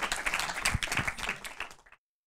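An audience at a German film event applauds the director and guests, a burst of full, close clapping that fades out and stops abruptly after about two seconds.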